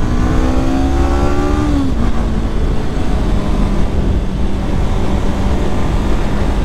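A 2024 Honda CBR500R motorcycle pulls hard uphill in second gear at full throttle, its engine note climbing steadily before a brief dip, then droning on continuously and loud with steady wind and road noise.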